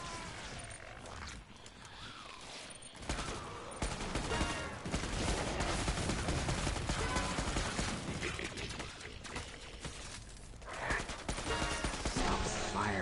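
Dense gunfire and chaotic combat effects from the co-op zombie shooter Killing Floor 2 on PS4, loud and continuous throughout, with players talking over the noise.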